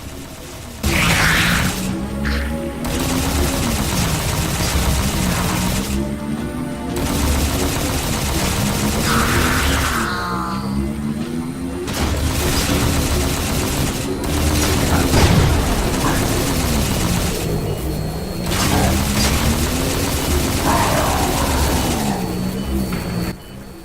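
Plasma weapon fire in Halo 4, a sci-fi shooter game, during the Requiem mission, with repeated zapping bursts and booming impacts running steadily over a constant low hum of game audio.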